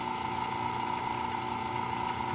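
Vacuum pump evacuating the A/C system of a 2007 Honda CR-V after a compressor install, a steady unbroken mechanical drone with a constant hum throughout.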